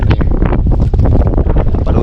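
Strong wind buffets a small fishing boat at sea, roaring loudly and continuously across the microphone in heavy low gusts with no break.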